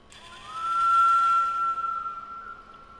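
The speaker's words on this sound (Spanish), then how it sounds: "Este es el silbido de la obra" A steady, clear whistle from a water-driven sculpture rises and holds a single high pitch for a couple of seconds before fading, driven by water moving between cavities and air pressure.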